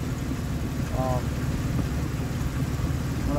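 A 2003 Ford Explorer engine with a misfire and a failed belt tensioner runs rough at idle, giving a steady low rumble close by. Someone talks over it.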